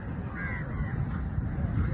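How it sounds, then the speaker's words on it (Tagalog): Many crows cawing in Malaysia, a dense chorus of harsh caws layered over a busy outdoor background, loud and continuous, with a voice speaking faintly in the mix. "ang daming uwak dito"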